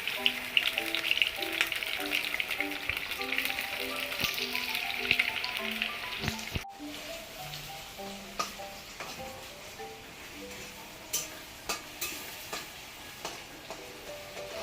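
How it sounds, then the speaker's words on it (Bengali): Onions sizzle and crackle in hot oil in a wok, a dense close frying hiss that quiets midway, with intermittent stirring taps. "পেঁয়াজটা ভাজা হয়ে গেছে"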